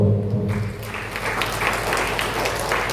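A church congregation applauding together, a steady broad wash of clapping that holds evenly for the whole stretch after a brief quieter start.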